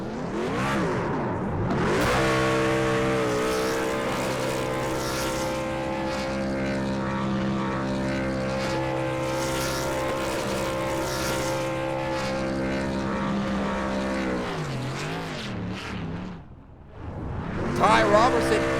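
Racing truck from a racing video game doing a victory burnout at Bristol, its engine droning loud and steady with strong harmonic revving for most of the clip, dipping briefly near the end before surging again.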